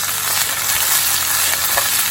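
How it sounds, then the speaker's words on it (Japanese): Skin-on sweet potato pieces fry in a frying pan as a steady, close sizzle that runs the whole time without pause. Nobody talks over it. "今回はフライパンなので、もうこういう感じでしばらくこう放置しながら、たまにかき混ぜてあげるという感じで火を通していきます"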